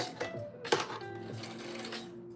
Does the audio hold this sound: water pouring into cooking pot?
no